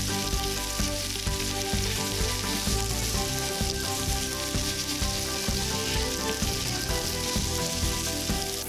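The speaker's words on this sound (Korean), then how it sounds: "프라이팬에 기름을 닦은 뒤 면을 넣고 살짝만 볶아주세요" Steady loud sizzling of pasta noodles being lightly stir-fried in an oiled frying pan, a continuous dense crackle with soft stirring scrapes throughout and no voices.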